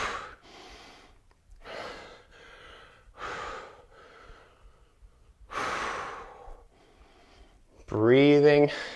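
Heavy rhythmic breaths during an arm workout, several loud exhales and inhales spaced a second or two apart, close to the mic, ending with a voice speaking.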